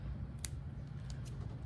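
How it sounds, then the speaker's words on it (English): Scissors snipping the end off a piece of Model Magic foil during a children's polar bear craft: two or three faint, quick cuts over a low background hum. "I'm just gonna cut off the end to make it nice and flat."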